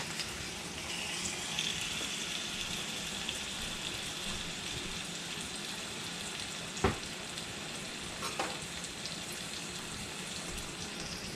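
Country ham frying in oil in a pan on the stove, a steady close-up sizzle with a constant hiss and a couple of faint clicks, no voices.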